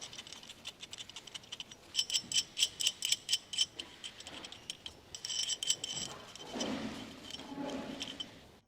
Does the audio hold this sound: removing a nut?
yes